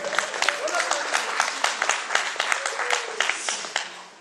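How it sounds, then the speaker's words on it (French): Audience applause at a satirical French stage show, steady broadband clapping with sharp individual claps and some voices mixed in, moderately loud throughout. "vous pouvez l'applaudir."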